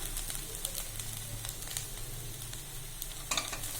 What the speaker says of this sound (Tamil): தேங்காய் துருவல் சேர்த்து ஒரு கலந்து விட்டுட்டு ஆஃப் பண்ணிடலாங்க ஸ்டவ்வை